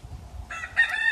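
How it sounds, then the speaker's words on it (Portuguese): A rooster crows nearby, a short, clear cock-a-doodle-doo rising over faint low background rumble. "O cantar do galo."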